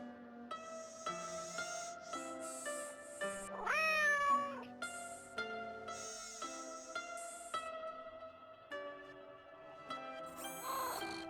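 Robotic cat Suki from the Nancy Drew game Shadow at the Water's Edge gives warbling electronic meows, one clear cry near the middle and another near the end, over steady tonal background music.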